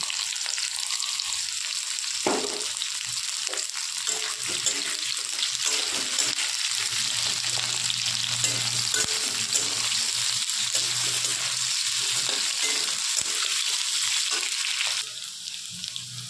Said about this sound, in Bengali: আলুটা একটু ভাজা ভাজা হয়ে গেলে পেঁয়াজের ভাজা কাঁচা লঙ্কাটা দিয়ে দেবো